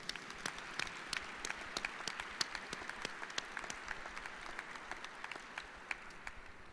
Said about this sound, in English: So everybody, please, round of applause.